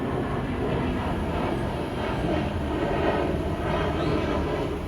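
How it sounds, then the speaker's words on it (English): Airplane passing overhead during an outdoor summer live stream, a loud, steady broadband engine roar that fills the whole clip with no talk over it. "Oh, plane."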